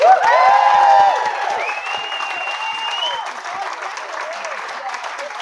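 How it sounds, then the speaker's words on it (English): Wedding reception guests applaud and cheer after a speech, with whoops and a voice rising over clapping at first, then settling into steadier applause. "So, a round of applause, please."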